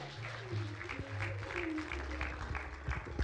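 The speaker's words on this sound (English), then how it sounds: "the team deserve a bigger round of applause for that" Audience applause at the launch of the Uganda UN Sustainable Development Cooperation Framework, steady clapping from a crowd across the whole stretch, with low tonal sound beneath it.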